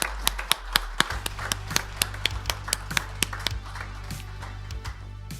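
Scattered hand clapping from company staff at a corporate award ceremony, honouring award recipients with sharp, irregular claps over a low steady hum, lasting several seconds.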